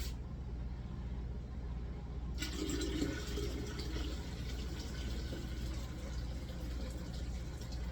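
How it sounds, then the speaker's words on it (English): Freshly boiled tea pours steadily into a container, a continuous splashing flow that grows fuller partway through, over a low background hum. "I'm gonna grab my tea that just finished boiling and pour it in."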